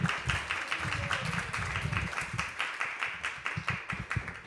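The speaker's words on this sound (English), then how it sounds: "Let's have a round of applause here for Prikashuri and the band" Audience clapping for a band at a devotional talk, a brief round of fairly close hand claps that loosens into a looser rhythmic patter.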